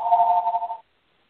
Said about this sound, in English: I hear your phone.